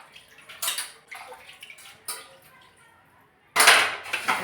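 Clinks and rattles of dishes being set down, with a burst of running water splashing near the end; brief pauses between handling sounds.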